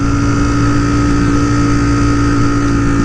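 A Ducati Streetfighter V4S motorcycle riding through corners, its engine a loud, steady, close droning hum with constant wind rush and no speech.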